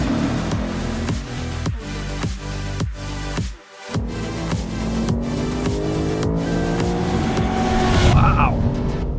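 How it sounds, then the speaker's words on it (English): A Lexus RC F is driven hard on a race track, its V8 engine roaring close as revs repeatedly climb and drop through rapid gear changes, with a driver talking over it. "Always love driving the RCF. This sounds good, good power."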